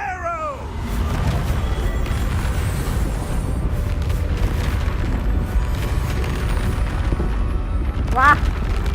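The Reparo repair spell in Hogwarts Legacy plays as a loud, sustained magical rumble with crackling, splintering debris, opening and closing on brief rising tonal swirls.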